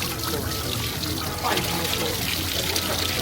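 Hot water is poured over goat tripe by hand during an outdoor Jamaican Christmas cookout, a steady splashing trickle that runs through the whole moment with a voice speaking over it.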